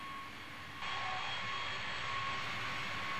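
Jet engines of a B-52D bomber spooling up for takeoff in the Strike Fighters 2 flight simulator, a steady loud roar with a high whine that swells louder about a second in and holds.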